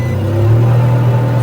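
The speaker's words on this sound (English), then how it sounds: "the engine has started now" A Nissan car engine idling just after ECU programming in a repair workshop, a steady loud low hum held close for the whole moment with no voices.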